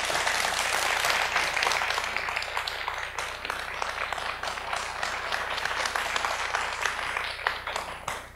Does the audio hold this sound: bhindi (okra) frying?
no